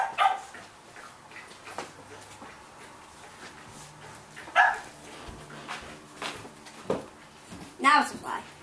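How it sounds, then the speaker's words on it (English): Indoors, a dog barks a few times with short, sharp yaps spread across the stretch. The barks are fairly faint under steady talking. "someone let that dog in"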